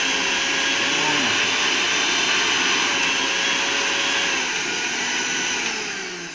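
A repaired old mixer grinder runs at its third speed setting, a loud, steady, close motor whine that holds evenly and begins to wind down right at the end.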